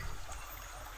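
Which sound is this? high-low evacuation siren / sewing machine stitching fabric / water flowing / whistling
water flowing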